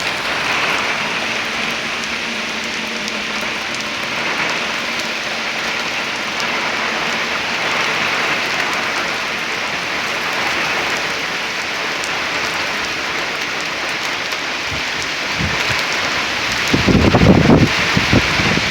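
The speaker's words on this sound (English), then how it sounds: "Yeah, I'm getting rained on." Heavy rain pours steadily during a severe Oklahoma storm with strong gusts, a loud continuous hiss of drops hitting surfaces close by, and a sharper wind buffet near the end.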